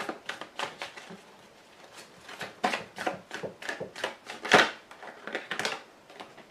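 A deck of tarot-style playing cards is cut and shuffled by hand, producing a close run of soft riffling and flicking snaps in irregular bursts, with one louder slap near the end.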